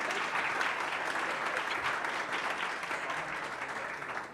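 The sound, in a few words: audience applause for the moderator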